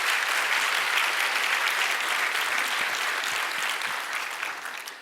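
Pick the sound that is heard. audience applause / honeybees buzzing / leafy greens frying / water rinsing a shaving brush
audience applause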